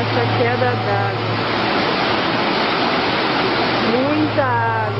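Steady roar of rushing water from a waterfall, broadband and continuous throughout, with faint voices and scattered chirps partly audible beneath the wash.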